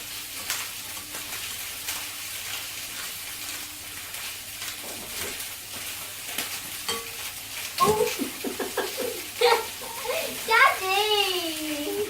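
Toad in the hole batter is stirred in a bowl, making a steady, close, scratchy swishing. A child and an adult can then be heard talking over the mixing.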